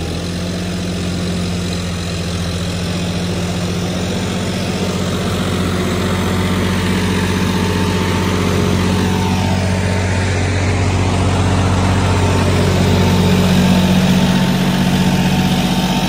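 A John Deere 5210 tractor engine runs at high RPM, a loud, steady, close diesel drone with heavy low-end vibration that holds unbroken with no one speaking.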